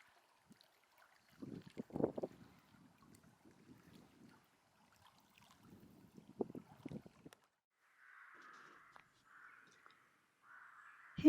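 Crows caw outdoors near water, a few harsh calls in short bursts, moderately distant, with quieter rustling and wind between them and no talking.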